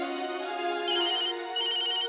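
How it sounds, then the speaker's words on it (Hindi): A mobile phone rings with a bright electronic melody tone, steady and fairly loud, pulsing in two bursts without any talk. "आज ये फोन भी बंद नहीं हो रहे।"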